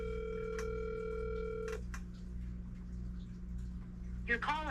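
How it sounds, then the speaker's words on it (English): A telephone call ringing through toward voicemail: a steady electronic ringback tone sounds, cuts off after a moment, then a line hiss follows before a brief voice at the very end. "We're going to call Kyle. We'll see if he answers"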